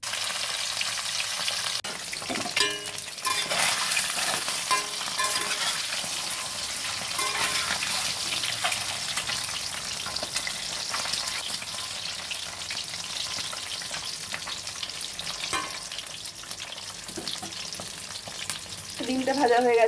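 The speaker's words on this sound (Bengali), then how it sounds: "তেল গরম হয়ে গেছে, আমি এবার ডিমগুলো ভেজে নেব।" Duck eggs fry in hot oil in a new pan (kadai), giving a steady, close crackling sizzle with brief spatters and stirring scrapes throughout, with no talking.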